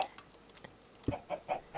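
Short Minecraft chicken clucks come in a few quick bursts, fairly faint and close, with light clicking between them and no speech.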